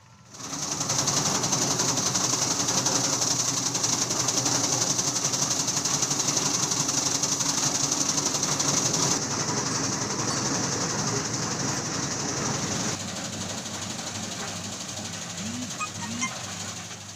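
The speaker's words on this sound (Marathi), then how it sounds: "एक छोटीशी मशीन आहे चाऱ्याची ते आपण त्याच मशीनीमध्ये टाकून चारा छोटा करतो" A fodder chopping machine runs with a steady, loud mechanical whir and rattle, shifting pitch partway through, a few voices faint underneath.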